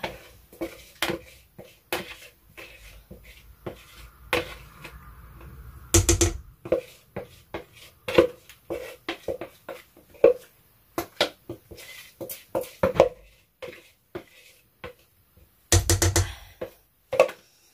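Utensil clinks and scrapes against a bowl or container while DIY mulberry body wash ingredients are gently stirred together, a loose run of close, light taps with a few sharper knocks, no voices.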